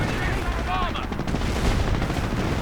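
Continuous rumbling artillery fire in a World War II strategy game, dense booming barrage raining onto infantry, loud and sustained with no clear gaps.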